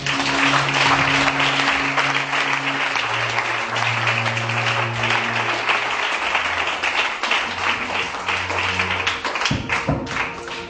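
A church congregation applauds and cheers loudly and steadily, dense clapping with crowd noise over sustained musical tones throughout.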